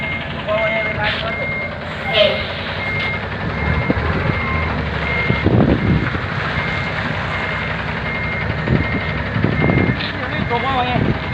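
A vehicle pulled out of a drainage ditch backs up slowly with steady reversing beeps over a low engine rumble outdoors, while a voice talks over it throughout.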